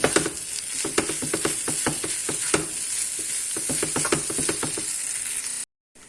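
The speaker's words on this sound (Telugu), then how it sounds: "రైస్ యాడ్ చేసేసుకోవచ్చు జస్ట్ యాడ్ చేసుకొని ఇలా కలిపేసుకుంటాను" Rice stirred into corn fried rice in a pan, with repeated scraping and clinking strokes of a spatula over a steady sizzle, close and fairly loud, cutting off near the end.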